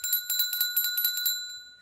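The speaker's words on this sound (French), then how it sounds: "j'ai entendu cette petite cloche un petit peu partout cette semaine." A small bell rings in a shop, a rapid series of about a dozen bright, high metallic tings with a sustained shimmering tone that fades out near the end, close and alone.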